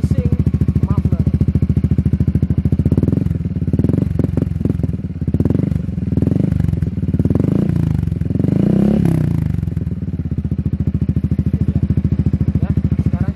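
Yamaha XMAX scooter fitted with a DX Generation racing muffler, revving loudly and close by, with a steady engine drone that swells through repeated throttle blips before settling back.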